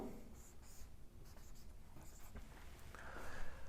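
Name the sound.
writing a chemistry example while lecturing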